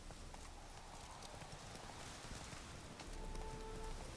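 Geralt's horse Roach trots in the Witcher 3 video game, a quiet steady clip-clop of hooves under soft ambient game noise.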